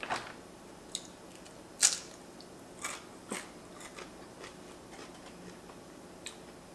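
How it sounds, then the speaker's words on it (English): Crispy crackers crunched between the teeth during an everything bagel mac and cheese meal, a series of sharp separate bites and crackles close to the mic in a quiet room. "These crackers are so crispy."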